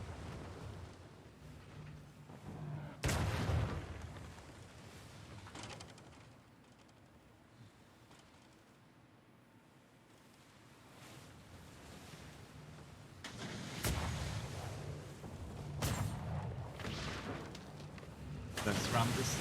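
Ship cannons fire in a pirate-era naval game, heavy booming blasts landing in bursts with rolling ocean and crowd-like rumble between them, while a player talks over the action.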